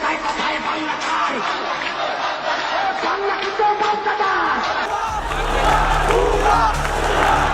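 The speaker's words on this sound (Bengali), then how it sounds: "এই ৩৬ দিনে রাজপথ দেখেছে লাখো শিক্ষার্থীর স্লোগান" A large crowd of students chanting protest slogans in a street, a loud roaring mass of voices with rhythmic shouted calls, sustained throughout and swelling slightly toward the end.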